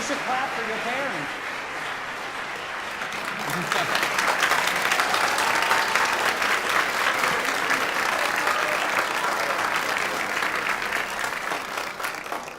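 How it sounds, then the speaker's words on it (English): Parents at a youth choir evening are applauded by the audience: a voice and light noise at first, then dense, sustained clapping swells and holds steadily, moderately loud, from a sizeable crowd. "You should clap for your parents."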